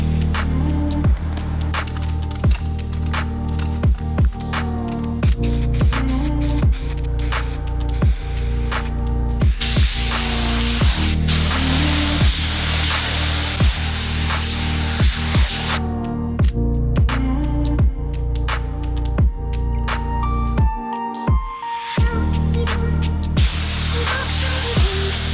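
A spray gun hisses in long loud bursts as primer and paint are applied to a plastic lip for a Mitsubishi Evolution, with steady continuous spraying and brief pauses, no talking.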